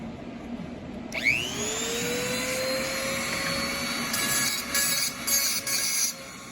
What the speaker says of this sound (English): Quick work with an electric mini die grinder, a very useful tool to have.